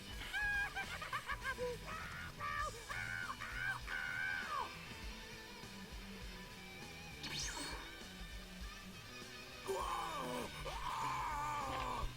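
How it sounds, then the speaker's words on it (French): Frieza screams in the Dragon Ball Z Budokai 2 video game, giving loud, strained shrieks and groans over a busy game soundtrack and effects. "Les cris de Freezer, ça me fait juste délirer."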